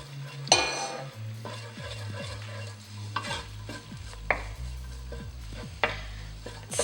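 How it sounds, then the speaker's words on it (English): A spoon stirs garlic, chilli and ginger through minced pork frying in a pan, a steady close sizzle broken by repeated scraping strokes and occasional clinks. "add the garlic, the chilli and the ginger to the minced pork and give that a bit of a stir around"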